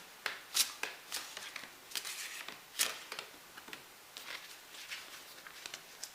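A deck of tarot cards being shuffled, a run of soft, close riffling bursts and light ticks at an irregular rhythm, fairly faint and with no talk.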